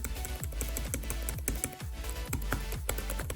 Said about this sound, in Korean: 키보드 타이핑 감각은 정말 좋아요 적당하게 반발력 있고